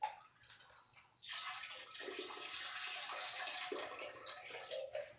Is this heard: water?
yes